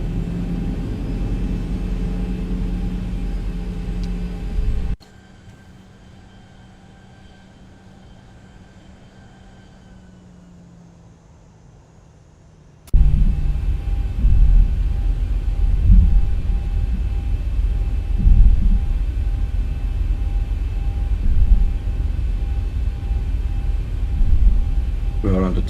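A Ryanair airliner starts taxiing after its parking brake is released, with a low, steady rumble of engines and rolling that grows louder and more uneven after a quiet stretch, and voices talking over it.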